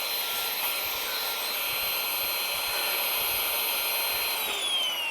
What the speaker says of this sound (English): You can see the air is coming out very quickly.